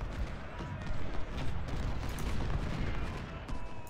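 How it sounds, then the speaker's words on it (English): Cannon and musket fire in the Civil War battle game Ultimate General, a dense, continuous rumble of distant booms and crackling shots under a steady battlefield roar, with a voice talking over it. "there is actually some cannons fire right there"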